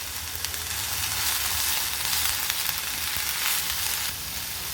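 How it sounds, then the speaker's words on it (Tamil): Onions and ginger-garlic paste sauté in a pan for a mushroom gravy, giving a close, continuous sizzle with steady crackle and no voices. "இஞ்சி பூண்டு பேஸ்ட் போட்டு ஒரு 2 நிமிஷம் வதக்குனதுக்கப்புறம்"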